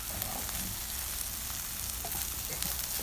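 Scrambled eggs fry and are stirred in a pan, giving a constant loud, crackling sizzle close up with faint scraping stirs mixed in and no voices.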